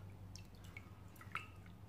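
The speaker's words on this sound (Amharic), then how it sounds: "ውስጥ አለቀልቀዋለሁ" Water drips and trickles as nails are rinsed in a bowl of clean water during a home manicure, a few soft close splashes over a low steady hum.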